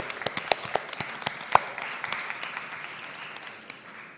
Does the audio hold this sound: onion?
no